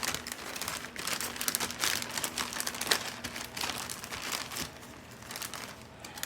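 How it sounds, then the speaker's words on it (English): Fruit is placed into a plastic Ziploc bag, producing quiet, irregular crinkling and rustling of the plastic close by. "I'm gonna take this fruits and put them in a Ziploc bag like this"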